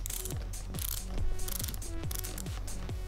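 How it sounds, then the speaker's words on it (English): A BOA dial ratchet tightening a Klim Outlander GTX motorcycle boot, a close, quiet series of crisp clicking ratchet ticks in a quick irregular rhythm. "the BOA system comes around your foot, locks it in"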